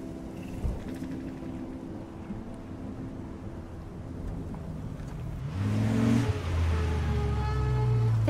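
A car engine runs steadily during a drive in the game Life Is Strange, a low rumble that swells louder near the end as the engine revs up, with no talking.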